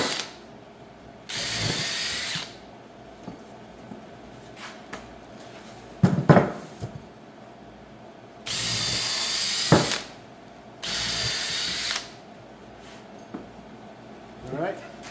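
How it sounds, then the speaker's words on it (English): A power drill whirs in several short bursts of a second or so each, drilling pilot holes in a Ford roadster gas tank, separated by quiet pauses with light tool clicks and handling noises. "Then we're going to pre-drill to get a pilot hole."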